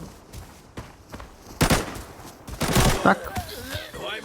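Gunshots in an Arena Breakout match, scattered sharp shots with two louder heavy bursts near the middle, overlapping game clatter and a voice talking in places.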